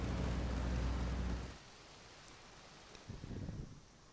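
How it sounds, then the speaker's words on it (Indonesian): Rain in the video game GTA Vice City Stories, a dense loud hiss that cuts off abruptly, followed by quiet and a brief low rumble like distant thunder. "Hujan, akhirnya gue ketemu hujan."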